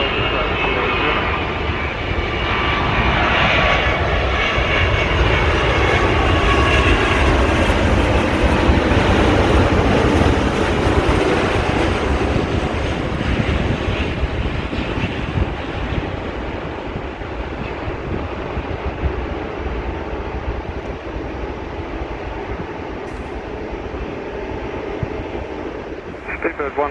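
A heavy airliner landing at Sydney Airport on runway 16 right, a loud sustained roar of jet engines rising and then slowly fading as the aircraft passes and rolls out, continuous and powerful throughout.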